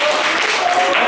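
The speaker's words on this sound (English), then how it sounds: "Round of applause for all of" A live audience at a talk event breaks into loud, dense applause, a continuous close wash of many hands clapping with scattered cheering mixed in.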